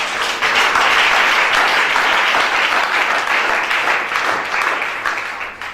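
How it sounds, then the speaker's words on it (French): A church congregation applauds Jesus with a dense, continuous wash of clapping, loud and enveloping, tapering slightly near the close. "Acclamez Jésus."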